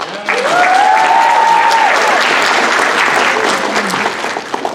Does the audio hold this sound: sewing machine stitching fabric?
no